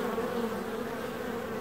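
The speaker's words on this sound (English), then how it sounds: "see how quickly those bees pile up on the top of that entrance there" Dense, steady buzzing of many honey bees close by at a hive entrance, a continuous droning hum with no pauses and no voices.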